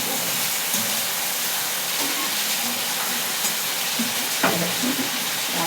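Spices for a fish curry sizzle steadily in hot oil, a dense, continuous frying hiss that fills the whole stretch with only faint stirring clicks and no voices.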